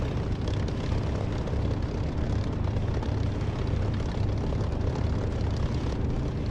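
Continuous heavy engine roar from an aircraft in the DCS flight simulator game, a deep, even rumble with airy hiss holding steady for several seconds, no voices over it.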